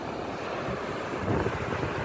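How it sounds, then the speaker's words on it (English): Strong wind buffets the microphone over the steady rush of waves surging onto a beach, a continuous broadband roar that swells slightly toward the end with no voices. "the water, the waves are kind of pushing on the beach here"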